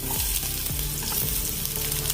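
Onions frying in oil in a pan while cooking a paneer lababdar gravy: a steady, close, bright sizzle with a few low thumps, no voices.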